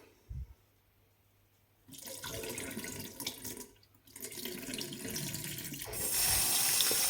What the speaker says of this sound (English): So let's just take these over to the sink and wash them of the starch.